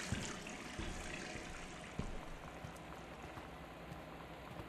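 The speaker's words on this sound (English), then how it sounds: "that running water noise is gonna bug me" Running water in the video game Gone Home, heard as a constant gentle trickle and bubbling flow at a steady moderate level, with a couple of soft knocks and no voices.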